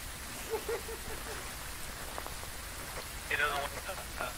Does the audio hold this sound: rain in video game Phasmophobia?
yes